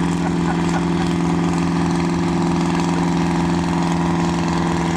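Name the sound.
1948 John Deere B tractor engine idling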